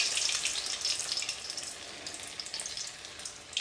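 Vada dough patties coated in sesame seeds drop into hot oil and sizzle with a bright, crackling hiss that starts strong and gradually settles into softer popping, close and without talk.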